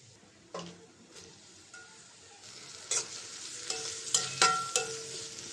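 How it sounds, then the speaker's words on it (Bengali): Chopped onions fry in oil in a wok over a gas cylinder flame, giving a soft steady sizzle broken by several sharp scrapes and clinks of a spatula stirring against the metal. "পেঁয়াজটা ভাজা হয়েছে"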